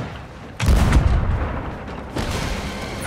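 A heavy ship cannon fires in Sea of Thieves with a deep booming blast, followed moments later by a second loud report, both close and powerful with a rumbling tail.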